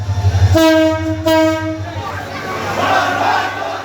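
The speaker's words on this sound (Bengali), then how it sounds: "প্রথমবারের মতো ট্রেনের হুইসেলে উচ্ছ্বসিত স্থানীয়রা" A train whistle blasts twice in short succession, loud and close, as the first train arrives in Cox's Bazar, Bangladesh, then a crowd of locals cheers and murmurs beneath a low engine rumble.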